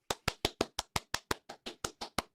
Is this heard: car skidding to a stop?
no